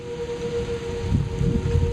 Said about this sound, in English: I went outside and I heard tornado sirens.